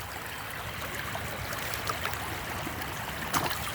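Water flowing through a gold sluice set in a Wisconsin stream, a steady rushing babble with small splashes and gurgles, heard up close with no voices.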